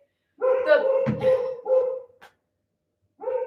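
A dog barks in a few short voiced bursts and a yip at close range, with pauses between calls and no talk over it.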